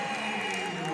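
A women's college basketball crowd at Oakland versus Youngstown State roars after a game-tying layup, with sustained loud cheering filling the arena for the whole moment.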